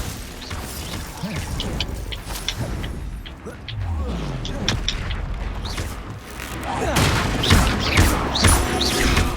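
Crashing booms, clattering impacts and magical bursts of spell effects from the Hogwarts Legacy video game, set in a goblin stronghold, come in dense overlapping waves that swell louder toward the end, with a voice speaking under parts of the action.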